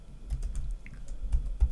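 Someone types on a computer keyboard, producing a quick scattered run of soft, close key clicks with a light thump on some strokes and a short gap in the middle.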